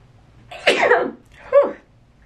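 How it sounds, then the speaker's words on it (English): Two sharp, explosive sneezes close up, the first longer and breathier, the second shorter, in an otherwise quiet room. "Oh man, I just had a sneezing attack."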